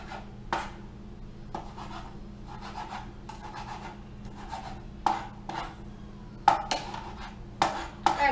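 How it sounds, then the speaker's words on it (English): Fresh mint is chopped with a knife on a cutting board, a series of sharp, irregular knife taps and scrapes, close and clear, over a low steady hum with no talking. "Alright, so I'll just finish chopping this"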